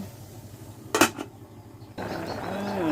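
A metal lid clinks shut on a cooking pot of fish and pickled bamboo shoot curry, one sharp nearby clatter with a quick rattle, then the low hiss of the stove continues.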